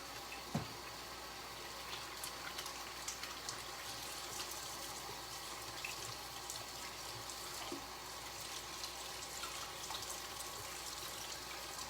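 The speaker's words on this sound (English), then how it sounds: "I'm gonna wash my hands so I can put this into the oven." Tap water runs steadily into a kitchen sink while hands are washed of fat from lamb and yogurt, a continuous broadband hiss with no talking.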